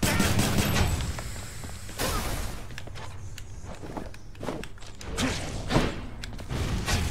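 Rapid bursts of gunfire from the Adamant Rail weapon in the video game Hades, with thuds and whooshes among repeated shots in a busy combat mix.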